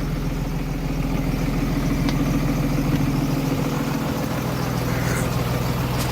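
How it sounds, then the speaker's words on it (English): Diesel engine of a 2000 Blue Bird school bus converted to a skoolie, idling with a steady low rumble and rattle heard from close by up front, no voices over it. "Engine's right here. It's kind of noisy up front,"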